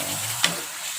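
Free-range chicken pieces for rendang fry in a pan with spice paste, a close steady sizzle with a single quick stirring scrape midway through this brief moment.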